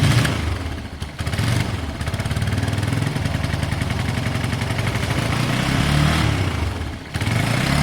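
A motorcycle engine idles steadily with the choke on, giving a continuous close, rough, clattery putter for several seconds with no voices.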